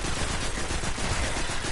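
Fully automatic gunfire in the Destiny video game, a dense, loud, continuous rattle of rapid shots with no gaps.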